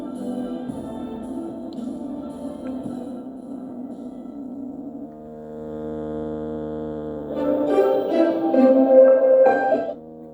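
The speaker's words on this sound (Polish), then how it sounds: "pokażę, jak brzmi taki uwalony wzmacniacz na jednym kanale" A steady electrical hum with harmonic tones from a faulty channel of a Tandberg hi-fi amplifier, shifting pitch partway through and turning into a louder, distorted buzzing toward the end.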